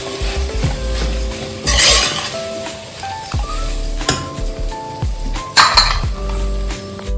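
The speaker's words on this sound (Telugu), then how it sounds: "కొత్తిమీర, వేసి బాగా కలిపి మూత పెట్టుకోవాలి." Biryani being stirred in a pressure cooker and the lid fitted on, a run of metallic scrapes, clinks and clanks of utensil and lid at a steady, uneven pace, close by with no speech.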